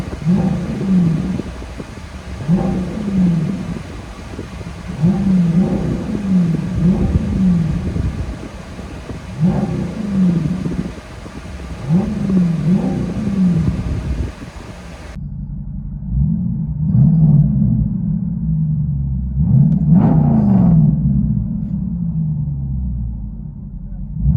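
Dodge Durango SRT with a 6.4L HEMI V8 and resonator-delete straight-pipe exhaust, heard from inside the cabin: a deep, loud droning rumble with repeated throttle surges, with voices talking over it.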